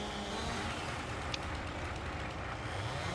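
A tractor engine in the Farming Simulator 22 video game runs with a continuous low rumbling roar, steady and fairly loud, with no voices.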